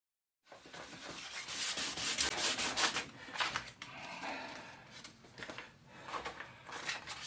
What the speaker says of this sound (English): Now I'm just going to do a little bit of wet sanding here.